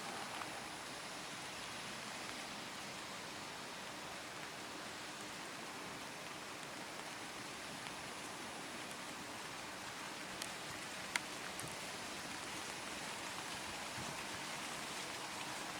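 Rain on a golf course during a qualifying round, a steady even hiss of falling drops with no voices, constant and moderately loud for the whole stretch.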